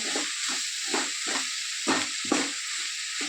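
Chirraku leaves frying with chilli powder in a pan, giving a steady hiss and sizzle broken by a series of regular stirring scrapes, close and moderately loud.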